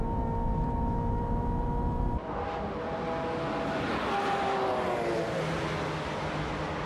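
A Ferrari 355 F1 and a Lancer Evo race down the straightaway at Fuji, a steady loud engine drone with a sharp shift in pitch partway through, rising tones sweeping upward as the cars press on.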